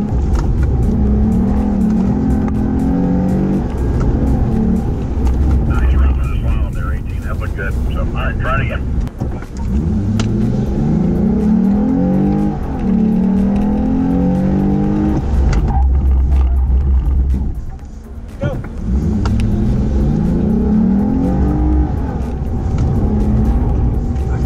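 A Lexus GS F runs a slalom course, its engine revving up and down in repeated surges as it weaves through the cones, loud and close with steady road and wind noise, and some talk over it.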